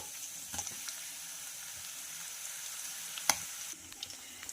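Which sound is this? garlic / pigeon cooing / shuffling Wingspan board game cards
garlic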